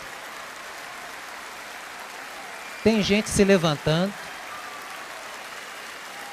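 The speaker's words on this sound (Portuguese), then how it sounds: "não param de aplaudir, batem palmas" A concert crowd at a performance applauds steadily, a dense continuous clapping wash, while a voice briefly talks over it partway through.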